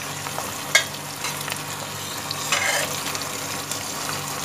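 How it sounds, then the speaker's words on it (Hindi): Onion sizzles in hot oil with whole spices, a steady close frying hiss broken by a couple of sharp spatula clicks and brief surges of crackle. "साबुत मसाले डालने के बाद हमने इसमें प्याज भी डाल दिया।"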